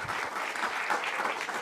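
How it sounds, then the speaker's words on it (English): Dense, steady applause from a conference audience thanking speakers at a sports-excellence event, continuous broadband clapping with no gaps, fairly close and even in loudness throughout. "An applause for Mersh and also for Alexis."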